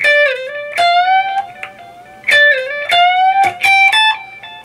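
Electric guitar playing a phrase, with slides and a bend, lead notes in short bursts with sustained ringing tones, close and loud, no talking.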